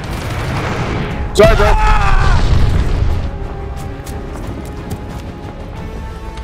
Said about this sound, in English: Enemy's got a glide bomb incoming.